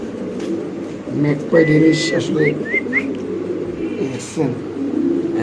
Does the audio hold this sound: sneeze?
no